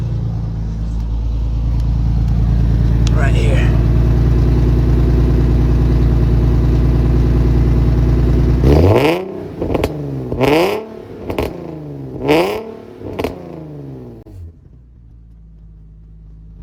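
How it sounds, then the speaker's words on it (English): A wrecked Nissan 370Z holds a loud steady drone for several seconds before a brief voice, then blips through five sharp, rising and falling revs in quick succession and settles back down close by. "Let's give you guys some revs."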